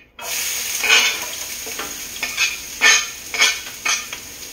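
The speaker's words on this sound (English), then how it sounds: "Onions going in." Onions frying in a pan, a hissing sizzle punctuated by several bursts of stirring and tossing, close and lively, with no speech.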